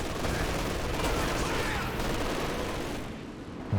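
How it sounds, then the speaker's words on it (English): A machine gun fires in Company of Heroes 2 during a 2v2 match: a steady, dense wash of rapid automatic fire mixed with distant battle noise, holding level for several seconds before easing slightly at the end. "There goes the MG."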